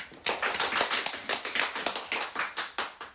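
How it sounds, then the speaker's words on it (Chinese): Applause from a small group follows a birthday livestream performer's song, a steady burst of clapping lasting about three seconds with individual claps distinct, fairly close and moderately loud, with no talking over it. "鼓掌。"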